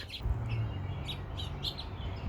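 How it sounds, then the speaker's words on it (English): Birds gathered on a house roof chirp in short, bright tweets scattered across the moment, small calls overlapping against a steady outdoor background hum with no talking. "Look at all them birds on my ceiling, on my roof."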